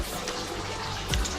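Water gushes strongly from a tap in a steady, close rushing spray with a brief splashy surge near the end, no voices over it.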